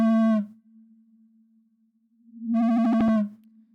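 A dry synthesized tone plays in two short bursts separated by a faint low hum, each ending cleanly with no lingering echo.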